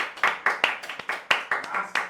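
A few people clapping hands at a casual running-community chat, a short burst of uneven, fairly close claps lasting about two seconds with no talk over it.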